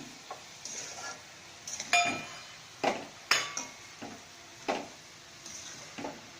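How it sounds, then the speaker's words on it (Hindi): A spoon stirs and scrapes a coconut barfi mixture in a pan over the heat, giving a string of separate clinks and knocks against the metal, some sharper than others, fairly quiet and alone. "इसमें हमको चम्मच हिलाते ही रहना पड़ेगा"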